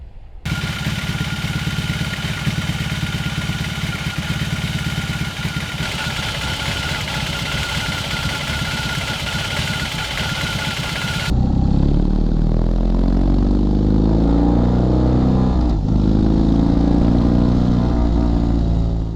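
A BMW R18 Classic boxer motorcycle engine idles with a steady mechanical clatter, then revs up into a loud, deep throbbing roar that holds to the end.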